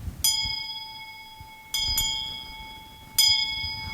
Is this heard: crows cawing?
no